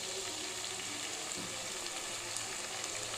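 Tomato paste fries in hot oil with ginger-garlic paste for a chana paneer curry, making a soft, steady low sizzle close by.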